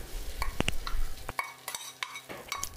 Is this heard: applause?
no